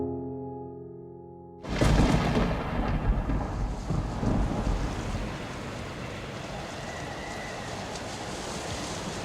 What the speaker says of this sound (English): through the lashing wind and rain, you see a single lantern flickering